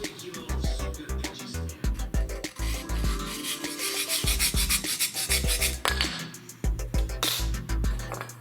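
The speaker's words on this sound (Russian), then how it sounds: "придать нужную форму обычным напильникам" Hand file shaping a decorative tile for a drywall fireplace, rapid rhythmic rasping strokes close up, continuous and fairly loud.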